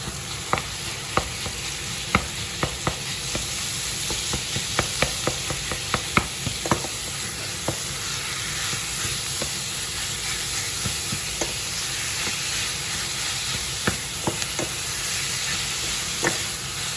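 Minced beef for lasagna fries in a pan with a constant close sizzle, broken by repeated sharp scrapes and knocks of a spoon stirring it, some in quick clusters.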